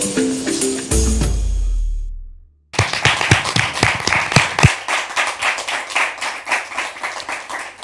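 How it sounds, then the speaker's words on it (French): Sustained applause welcoming viewers on a French-language Christian broadcast, dense rhythmic clapping that starts after a brief musical swell and a moment of silence, then continues steadily and fairly close. "C'est par ces applaudissements nourris que nous vous souhaitons la bienvenue."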